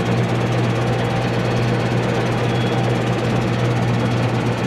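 A tractor engine running in a field, a loud, steady, close drone with a constant low throb and no change in pace across the whole stretch.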